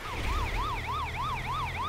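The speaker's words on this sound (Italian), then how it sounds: "Ambulanza!" Ambulance siren in the video game Poly Bridge 2, a rising and falling wail cycling steadily and quickly over a low rumble, clear and fairly faint, with no voices.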